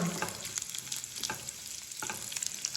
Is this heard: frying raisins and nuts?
yes